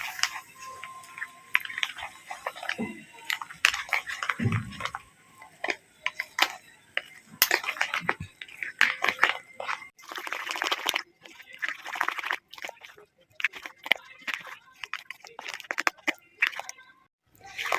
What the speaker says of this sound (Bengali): অল্প একটু দুধ দিয়ে দেবো মেশানোর জন্য। ভালো করে কিন্তু মিশিয়ে নিতে হবে।